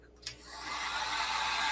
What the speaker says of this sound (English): this is Tim Toolman Taylor's hair dryer